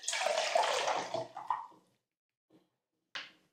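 Half a litre of cold water poured into a camping stove pot: a steady, close splashing pour for about two seconds, then a faint drip and a short final splash.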